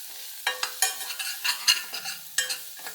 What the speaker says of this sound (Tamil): 1/2 டேபிள் ஸ்பூனு தனி மிளகாய்த்தூள் எல்லாம் போட்டு நல்லா ஒரு கலக்கிடலாம்.